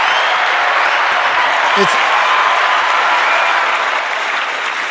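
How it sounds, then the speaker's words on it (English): A crowd gives loud, dense applause, a steady close wash of many hands clapping for about five seconds. "It's double applause."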